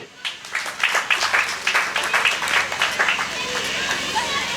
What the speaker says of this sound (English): May we clap.